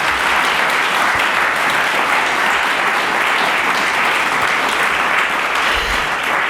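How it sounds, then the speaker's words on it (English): An audience at a swearing-in ceremony gives a sustained round of applause, a loud, even roar of many hands clapping without a break from start to finish. "Give Robin Lois another round of applause."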